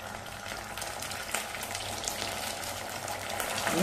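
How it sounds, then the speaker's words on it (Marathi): Jaggery melts with a couple of spoons of water in a pan over a high gas flame, producing a continuous bubbling, frothy sizzle that swells slightly toward the end, with no one talking. "आणि गूळ चांगला वितळवून घेऊया."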